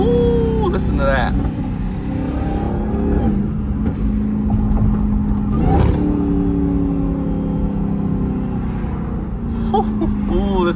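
A Dodge Hellcat Redeye drones steadily while cruising downhill in traffic, its supercharger whine rising and falling over the engine note, loud and continuous, heard through a partly open window from inside the car, with a voice speaking over it.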